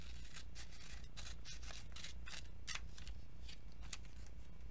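Scissors snip through paper for an art journal in a series of short, crisp cuts close to the microphone, with a steady low hum underneath and no talking.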